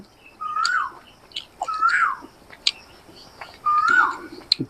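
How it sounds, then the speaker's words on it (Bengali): Birds calling around a village veranda: a few clear, close chirping phrases repeat in short bursts over quiet background. "পাখির ডাক শুনতে পাচ্ছেন আপনারা"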